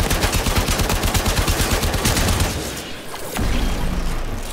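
Rapid machine-gun fire and grenade blasts in the Warframe video game, a loud regular stutter of shots for a couple of seconds, then a pause and a heavier boom-laden burst, with no talk.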